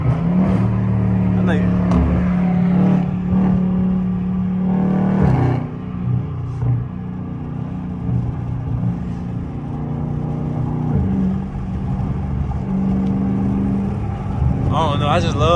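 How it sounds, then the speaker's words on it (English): A catless Dodge Scat Pack rumbles loudly from inside the car while driving, with a deep droning exhaust that swells and settles, under a brief spoken remark. "I just love like how loud the car can be, and I don't even have to be speeding"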